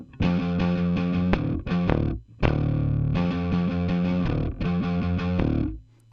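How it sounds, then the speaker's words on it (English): Bass guitar driven through distortion pedals into a bass amp with the compressor switched off, heavy and fuzzy, played loud in several chugging bursts with short gaps between phrases, no talking. "when you run the distortion pedals through the bass into a bass amp"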